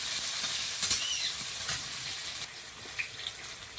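Chopped onion and chilli sizzle in hot oil with a steady, close hiss and a few soft stirring scrapes. No one speaks.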